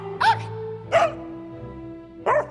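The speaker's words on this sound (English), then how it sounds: "their dog saying congrats to Noble" A dog barks three times, sharp and nearby, with uneven pauses between the barks over a quiet, steady low hum.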